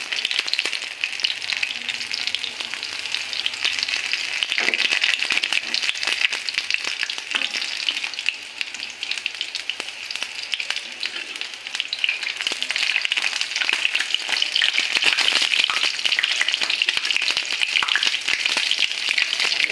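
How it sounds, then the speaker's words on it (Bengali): Pumpkin flower fritters fry in hot oil, giving a steady, dense sizzling hiss that holds for the whole stretch, close and fairly loud, with occasional faint stirring clicks and no talking. "এইভাবে আমি সব তেলগুলো ভেজে নেব"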